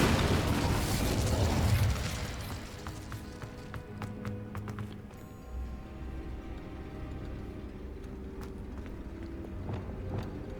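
A fiery Incendio spell burst in Hogwarts Legacy flares loudly at the start and fades after about two seconds, followed by scattered clicks, light footsteps and mechanical clatter from the game.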